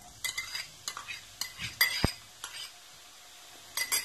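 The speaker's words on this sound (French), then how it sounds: "Donc là, je vais mettre mes oignons." Chopped onions going into a hot pan for salmon pasta and being stirred: close clinks and scrapes of a utensil on the pan in irregular bursts over a soft, faint sizzle.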